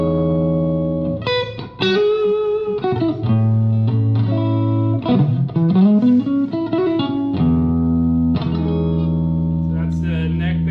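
Electric guitar played through the neck pickup of a Firefly Les Paul-style guitar with dual P90s, sustained notes and chord passages ringing clearly with slight effects and reverb, loud and close, with no talk.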